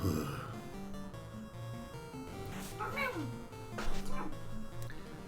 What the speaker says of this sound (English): Cat's meowing over there in the kitchen.